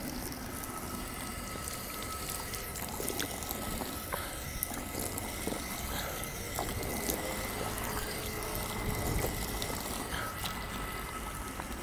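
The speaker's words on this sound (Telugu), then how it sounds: "వాటర్ కానీ ఇక్కడ ఎప్పుడు ఫ్లోలో చల్లగా బాగుంటుంది" Continuous flowing water at a cool spot in Italy, a steady moderate rush with small splashy ticks throughout, heard alone for the whole stretch.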